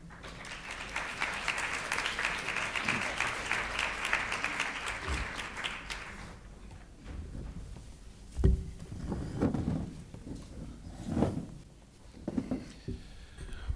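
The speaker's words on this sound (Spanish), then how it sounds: "os pido un aplauso para ellos" A seated audience at an autism conference in Madrid claps for speakers invited to the panel table, a full, loud burst that stops abruptly around six seconds, leaving quieter room noise and scattered thumps.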